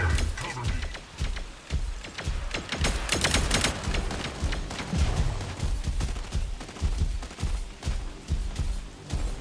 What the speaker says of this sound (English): Incoming fire! Cover me!